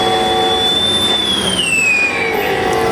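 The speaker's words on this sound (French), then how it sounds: "C'est un avion, ouais." A loud jet airplane roars overhead in Marseille, its high whine sliding slowly downward in pitch as it passes, with no voices.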